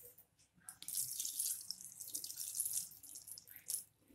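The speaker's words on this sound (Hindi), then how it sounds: "अब हम इसमें आधा ग्लास पानी डालेंगे।" Water from half a glass poured into a bowl of jaggery on a gas stove, a bright steady splashing that starts after a brief pause and runs on for a few seconds, close and fairly loud.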